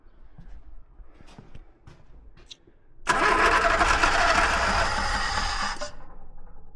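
An MK1 Ford Escort van engine turns over and catches after stalling. A loud, rough roar lasts about three seconds and then settles, with faint scattered noises before it.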